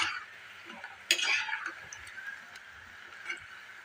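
Assamese suji nasta stirred in a pan over a gas stove at low-to-medium flame: a spoon scraping and clinking against the pan with soft frying hiss, one sharper scrape, faint and close.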